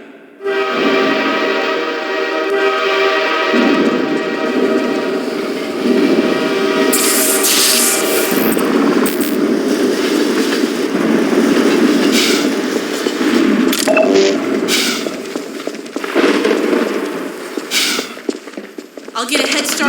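Train from the game Half-Life 2 Episode One rolling past, a continuous loud rumble with metallic screeches and hissing bursts, and rhythmic clatter building through the middle before easing off.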